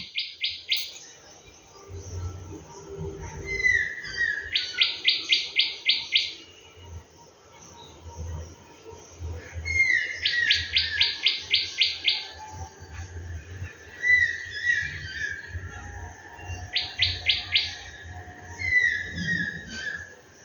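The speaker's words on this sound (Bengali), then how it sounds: "ঘুঘু পাখিকে দেখতে পুরো পায়রার মতো" Birds call outside at dawn in a quiet setting, with repeated bursts of chirping and trilling phrases at moderate distance, separated by short pauses over a low background hum.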